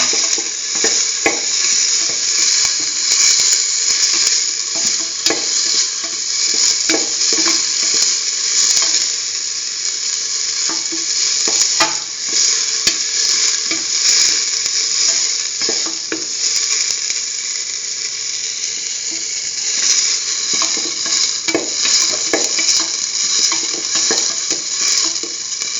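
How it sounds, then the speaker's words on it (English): Tomato and beetroot ingredients for a curried coconut stew sauté in a pan with a steady, close sizzle, punctuated by scraping stirs throughout; no one speaks. "Keep on sauteing."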